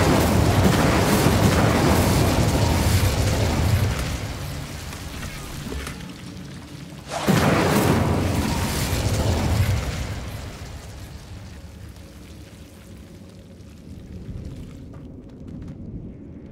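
An Incendio fire spell is cast in Hogwarts Legacy, a loud roaring burst that fades, then a second sharp blast erupts around the midpoint and dies away into a softer crackling tail.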